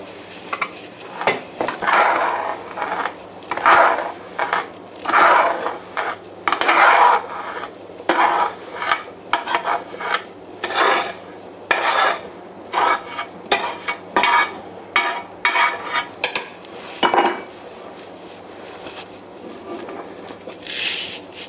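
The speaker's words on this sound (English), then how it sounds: "Just stirring that in. Mix it a little bit." A spoon stirs ginger into simmering grapefruit marmalade in a pot, with rhythmic scraping and rubbing strokes against the pot's sides and base, close and clear, separated by brief pauses.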